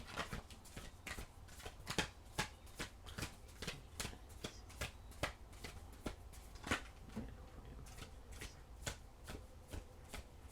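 Tarot cards shuffled by hand, a long run of quick riffling flutters and soft slaps repeating in a steady, slightly uneven rhythm, close but quiet, with no voices.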